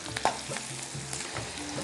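Onion and green chilli pieces frying in hot oil in a Telugu home kitchen, a short burst of steady sizzling with a light stirring scrape near the start.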